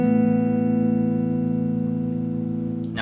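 A fingerpicked acoustic guitar pattern, played as sustained, ringing strings with pulled-off notes that blend into a steady, close drone, alone and without talk.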